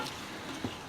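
Meat coated in spice paste, loosened with a splash of water, gets stirred in a hot pan for a baburchi-style vegetable curry; a faint sizzle runs under a single brief scrape of the spoon.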